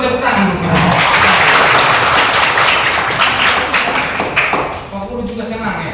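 Classroom students clap their hands together in a lively, dense burst that fills most of the few seconds, with voices mixed in and the clapping thinning toward the end.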